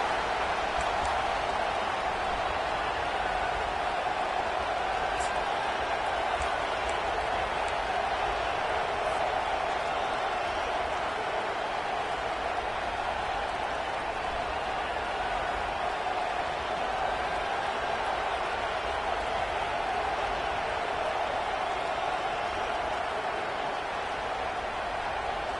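A college football stadium crowd in a Florida vs. Ole Miss video game match: a steady, wide roar of many voices holding at an even level throughout, with faint commentary underneath.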